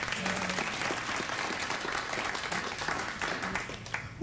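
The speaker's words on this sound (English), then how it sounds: "You clap like that, I don't know where I am anymore." Late-night talk show studio audience breaks into a loud, sustained burst of clapping and cheering that stays dense and even, with no voice over it, before cutting off abruptly.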